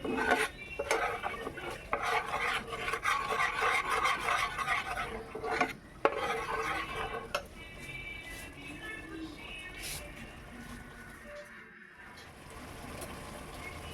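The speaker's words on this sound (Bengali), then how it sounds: "লবণ দিয়ে আবার নেড়ে চেড়ে দিচ্ছি" A spoon scrapes and clatters against a pan while paneer masala is stirred with salt for shahi paneer, busy close stirring that eases into softer scraping over a faint background.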